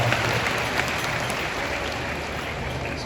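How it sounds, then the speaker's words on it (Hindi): Loud, sustained applause from an audience at Pandit Pradeep Mishra's religious discourse in Sehore, a dense steady clapping that holds for the whole stretch and swells briefly at the very end. "जोरदार ताली बजाकर साधुवाद।"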